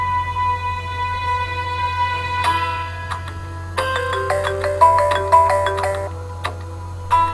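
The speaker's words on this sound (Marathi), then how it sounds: "फोन लागतोय पण दादा रिसीव्ह करत नाहीये" A mobile phone rings unanswered, its electronic ringtone playing a bright, repeating melodic tone pattern that grows busier midway, over a steady low hum.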